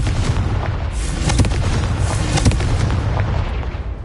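Confringo blasting spell going off in a Harry Potter video game, a loud, sustained rumbling explosion with heavy low boom and a couple of sharper cracks partway through, alone without talk.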